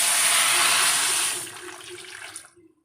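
Water pours in a loud steady rush into a cooking pan for avarai bean sambar, then tapers off into trickles and fades out.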